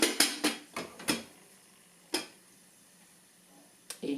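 Popcorn kernels rattle and clink against a heating pot as they are stirred, a handful of sharp close scrapes and taps spaced out irregularly, with quiet gaps between.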